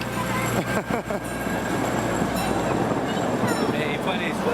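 A theme park train at Europa Park rolls past nearby with a steady rumbling clatter and a few sharp wheel clicks near the start, while people talk over it.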